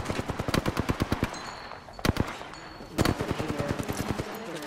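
Rapid automatic gunfire in the shooter game Apex Legends rattles in fast, even bursts, close and loud, broken by a couple of brief pauses and heavier single shots.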